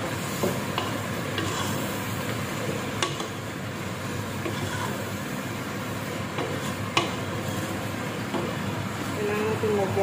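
Stroganoff stirred in a pan over steady sizzling heat, a continuous close frying hiss with light scraping of a spoon mixed in and no talking.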